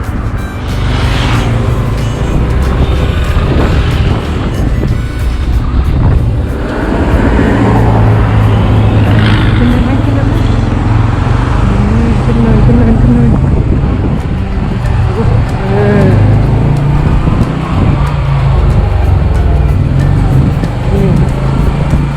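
A Honda CT125 motorcycle is ridden with a passenger aboard, sluggish and struggling to accelerate. Its engine and road noise give a loud, steady drone throughout, with muffled voices mixed in.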